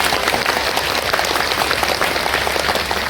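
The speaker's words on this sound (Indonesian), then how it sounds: "Tepuk tangan untuk muslimat." A crowd of Muslimat women at a religious gathering claps in dense, steady applause that fills the space without pause for a few seconds.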